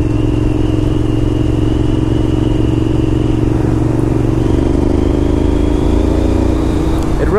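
A 2001 Honda RC51 sport bike's engine runs loud and steady while riding, a continuous throaty drone with layered harmonics and wind noise, a brief shift in pitch near the end.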